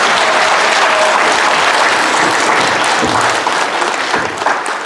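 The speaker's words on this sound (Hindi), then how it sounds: "तालियां बजाओ दोनों बच्चियों के लिए" A hall audience at a Waha Zindagi Wah program in Darjeeling applauds two girls with loud, dense, continuous clapping that stays full and even from start to finish.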